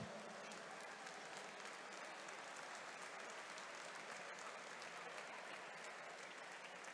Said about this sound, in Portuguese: Uma salva de palmas para o Miguel.